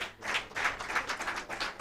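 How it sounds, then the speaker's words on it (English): An audience claps for award winners at an awards event, a fairly faint, continuous patter of applause from a modest crowd that rises and dips across the short stretch. "Let's clap for them."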